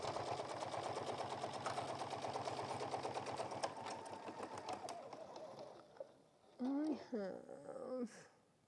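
Sewing machine stitching a bag, running fast and steady for about five seconds then stopping, after which someone speaks.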